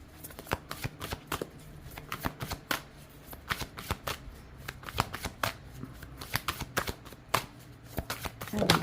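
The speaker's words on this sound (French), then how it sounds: "Ouais, elles sont trop grandes. On peut pas bien les mélanger, c'est dommage." Large tarot cards shuffled by hand in a rapid series of crisp riffling slaps and flicks, close and fairly loud, repeating irregularly throughout with no talking.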